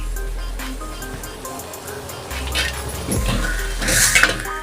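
A utensil scrapes and clinks against a pan as finely ground spinach paste is mixed in over a low gas flame for a garlicky palak dish, with metallic taps growing busier toward the end.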